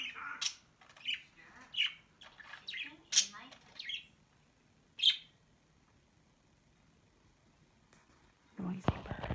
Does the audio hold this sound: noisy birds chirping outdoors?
yes